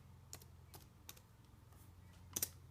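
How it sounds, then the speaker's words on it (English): Several sparse key taps on a computer keyboard while typing a web address, with soft isolated clicks and a slightly louder double tap near the end, quiet and close, no talking. "So I just type in YouTube."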